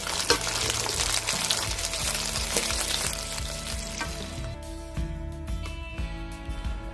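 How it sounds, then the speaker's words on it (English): Lollipop lamb chops sauteing in a pan, a loud, dense sizzle that eases off partway through, leaving quieter crackle with a few light clinks and scrapes. "I will finish sauteing these here"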